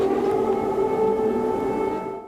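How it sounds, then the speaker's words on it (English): A steady, droning air raid siren wails continuously at a distance in frosty, snowy morning air in Ukraine, its tone holding level before fading slightly at the end. "Air raid sirens wail in the frosty morning air."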